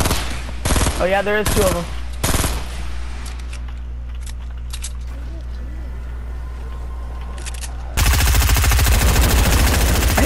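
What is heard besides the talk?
gunfire from a gun in the Fortnite video game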